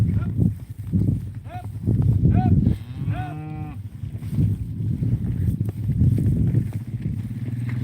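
Cattle on a farm during corn chopping moo several times in drawn-out calls, close and fairly loud, over a low rumble of farm machinery, with people talking in between.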